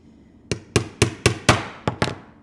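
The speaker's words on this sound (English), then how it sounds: "we just make the holes a little bit bigger with a leather punch" A metal leather punch is hammered through leather to make holes, seven sharp, close taps in a quick, slightly uneven rhythm about a quarter second apart, each with a brief ringing decay; no talking.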